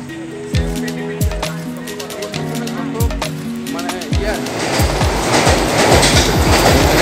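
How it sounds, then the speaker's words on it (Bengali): A Bharat train pulls out of Rampurhat station, a loud horn blaring over rhythmic wheel clatter that builds into a rushing roar as the carriages gather speed close by. "স্টেশনে বসে থাকতে দেখতে পেলাম ভারত ট্রেন বেরোচ্ছে"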